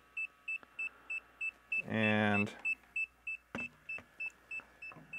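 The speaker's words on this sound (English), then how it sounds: "Now it's beeping." DJI digital FPV goggles in bind mode emit a rapid series of short, evenly spaced electronic beeps, interrupted by a brief loud buzz and a couple of clicks.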